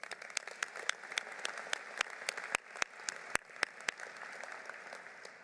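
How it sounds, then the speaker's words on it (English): Sparse applause at a university School of Management commencement ceremony honoring volunteer staff, with scattered distinct claps from a few people, faint and distant in a large hall. "Please join me as we applaud their support of and dedication to the success of our students."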